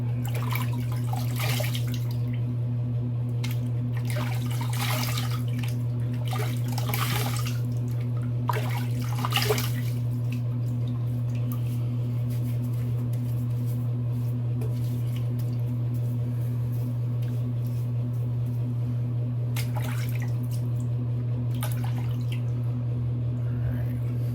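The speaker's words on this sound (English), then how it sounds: "Let's rinse." Tap water runs steadily for a post-shave rinse, with a constant low hum underneath and brief splashes of hands and water throughout.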